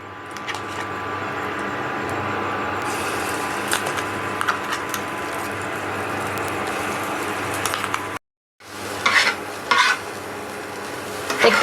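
Ground peanut paste frying in a little mustard oil for spicy badam vorta, a steady close sizzle with a spoon stirring and scraping against the pan, broken by a brief gap partway through; no speech.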